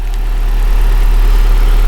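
The 1.8-liter CA18 turbo engine of a 1990 Nissan 180SX idles, a steady low rumble with an even hum that holds without change for the short stretch.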